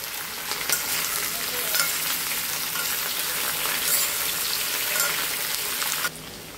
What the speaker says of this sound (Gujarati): બટાકા અને ફ્લાવરને થોડા મોટા કાપીને થોડું વધારે તેલ લઈને શેલો ફ્રાય